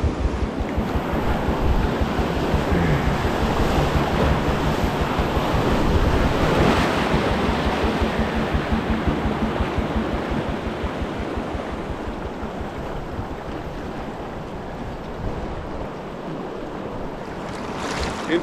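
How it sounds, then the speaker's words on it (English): Wide river rapid pouring over one bedrock ledge after another in the Yukon wilderness, a loud, steady roar of rushing whitewater filling the whole stretch with no let-up. "Interesting rapid though, so wide and just one ledge after the other, just the bedrock ledges is what it's pouring over"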